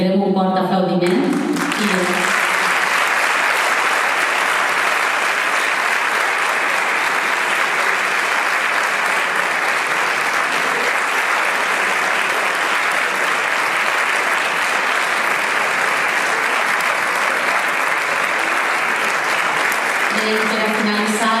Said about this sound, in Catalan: ens agradaria que li farem un fort aplaudiment